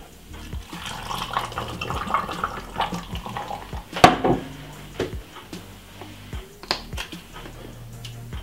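Water poured into a juice blender along with pear for a homemade juice, a soft splashing pour lasting several seconds with a brief clatter midway, close and quiet with no voices.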